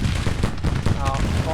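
Musket volley in a Confederate Civil War battle video game: a burst of overlapping gunshots crackling over a low rumble of battle noise, close and loud across a short span.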